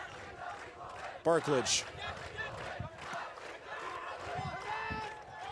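A crowd of cadets in the stands cheers on a football team during a match, a roaring background under continuous play-by-play commentary, with one brief louder shout rising near the start.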